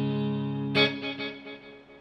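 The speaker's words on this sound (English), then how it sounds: "A little galloping kind of a drum echo." Guitar run through a Strymon Volante delay set for a galloping drum-echo preset: a sustained chord is struck again at 0.75 seconds, then its repeats pulse back in a loping rhythm and fade away, with no voice.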